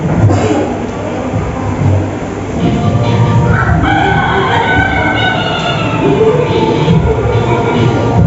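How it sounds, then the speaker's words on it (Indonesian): An Ayam Ketawa, the laughing chicken breed from Sidrap, crowing in a long, loud, warbling call made of rapid stuttering syllables, set against a constant heavy rumble of background noise. "Ayam ketawa."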